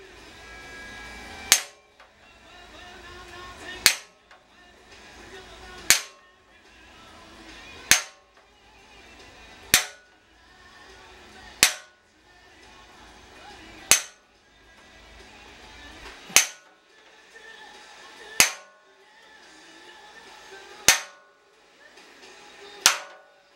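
Aluminum sheet struck along a marked line to bend it: ten sharp, loud metallic hits spaced roughly two seconds apart, each with a brief ringing decay, and a quiet background between blows.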